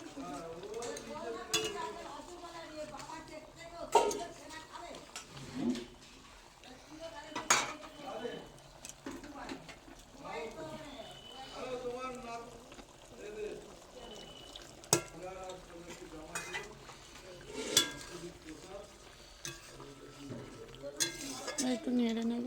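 Fish curry with mustard paste and tomato being stirred in a pan, with a spatula scraping and clinking against metal amid soft sizzling, as intermittent speech runs over the cooking noises.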